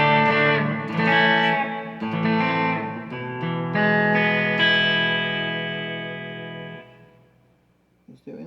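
Leo Jaymz Strat-style electric guitar on its bridge pickup through a '65 Deluxe amp with reverb and delay, played as a run of bright, ringing notes and chords, then left to sustain and fade out alone.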